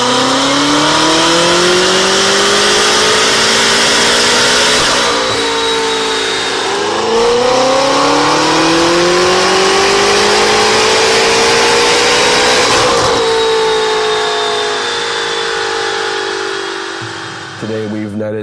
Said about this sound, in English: We've installed the full Armytrix Valvetronic exhaust system, including the optional downpipes